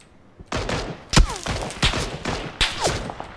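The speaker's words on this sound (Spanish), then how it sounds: "Me está disparando todo el mundo de abajo" Gunfire from enemies below in PUBG: several loud sharp shots and bursts in quick irregular succession, with whizzing ricochets, close and dominant.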